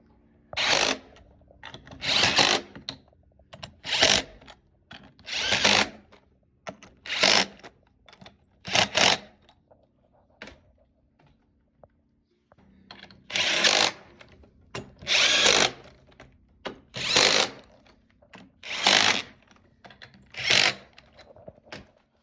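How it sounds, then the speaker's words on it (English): Power tool cutting custom holes in aluminum sheet to line up with 12V batteries in a 48V battery pack, heard as repeated loud, harsh bursts of about a second each with short pauses, close and alone without talk. "now we custom cut out our aluminum holes to line up with these batteries here"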